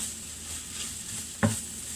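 Keto food is stirred in a frying pan, a steady sizzle with soft scraping and one brief, sharper clatter of the utensil against the pan.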